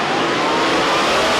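A supercharged, alcohol-burning Pontiac Trans Am drag car with a 426 cubic inch big block engine launches at night drag racing, a loud, dense engine roar filling the brief moment without voices.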